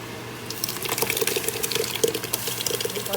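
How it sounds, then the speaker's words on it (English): Tomato sauce is dumped into a pot of cooking vegetables, giving a wet, glugging pour with soft splashes and sizzle-like bubbling, close and continuous for a few seconds. "I'm going to go ahead and dump the tomato sauce in."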